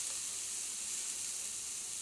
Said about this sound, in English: I'm going to keep cooking until I hear a frying sound again